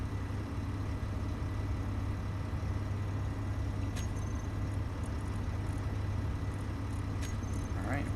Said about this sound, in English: yeah, I can hear the engine now